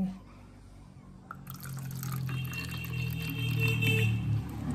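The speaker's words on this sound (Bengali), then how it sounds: "এবার এই বোতলের মধ্যে অল্প করে জল দিয়ে দেব।" Water is poured a little at a time into a bottle, a close gurgling, splashing trickle that starts after a brief quiet moment and rises in pitch as the bottle fills.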